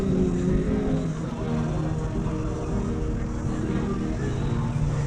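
Several loud classic cars, including a group of Ford Cobras, rumble in at an outdoor car show, a steady dense engine roar filling the whole moment with chrome-heavy muscle at close range.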